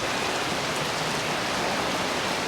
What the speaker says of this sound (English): can you hear me over the noise of that rain?